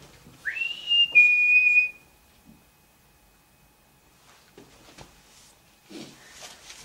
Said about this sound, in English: Can you copy this whistle for us,